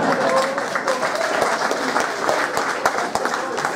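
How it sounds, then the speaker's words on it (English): An audience at a motor racing media day breaks into a round of applause, a dense burst of clapping that fills the room fairly close by, with a few voices mixed in. "That's going to be worth a round of applause."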